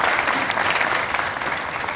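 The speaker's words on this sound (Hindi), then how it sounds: "एक बार जोरदार तालियां उनके लिए बजनी चाहिए।" An audience at a kavi sammelan poetry gathering breaks into loud, dense applause, a continuous wash of many hands clapping throughout.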